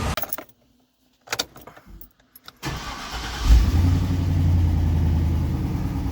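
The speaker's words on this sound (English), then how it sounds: "It's got quite a bit of injector noise, but that's just how they are." A car engine starts after some clicks and jangling keys, then settles into a steady, close idle with a noticeable ticking injector noise; no talking.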